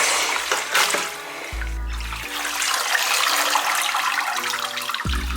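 Milky water strained from seitan dough pours into a kitchen sink, a continuous splashing gush with low gurgling drain tones underneath, loud and close.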